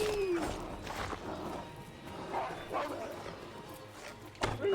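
A dog barks and whimpers in Assassin's Creed Valhalla, a few short yips over noisy game ambience with brief speech.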